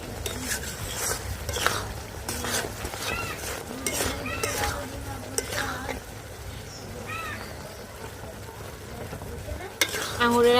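Grape pickle is stirred in a pan after roasted spice mix goes in: repeated scraping strokes of a spoon over a soft simmering sizzle, with occasional clinks and a voice talking intermittently.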